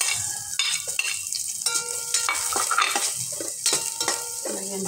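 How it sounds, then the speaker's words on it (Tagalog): Garlic and onion sautéing in a pan for chicken misua with patola, a steady sizzle broken by repeated stirring scrapes and clinks of a utensil, close and fairly loud, with no talking. "Igisa na natin sa bawang."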